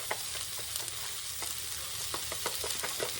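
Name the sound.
stirring ranch into mayo and sour cream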